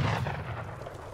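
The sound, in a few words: cannons firing in the video game Age of Empires 3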